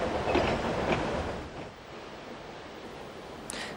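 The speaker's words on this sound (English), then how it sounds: "The trains pass through trim wayside stations and through the open fields of the lower valley." A passing steam train on the Talyllyn Railway makes a rushing, rumbling roar that fades gradually, leaving a softer hiss with a brief high squeal near the end.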